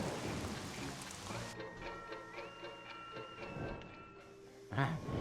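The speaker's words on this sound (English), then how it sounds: "Rain?" Cartoon rain patters steadily under a musical score with sustained tones, fairly quiet, ending in a brief louder thump.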